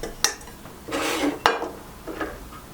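Metal camping pots, lids and a small frying pan clank and scrape as they are handled, a few sharp clinks separated by brief rustling, close and fairly loud.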